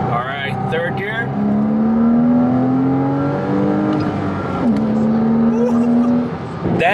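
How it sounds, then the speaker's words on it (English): A naturally aspirated manual car engine revs up as it accelerates in third gear, its rising drone climbing steadily in pitch, then dipping briefly at a gear change before climbing again, loud and close. "That naturally aspirated engine."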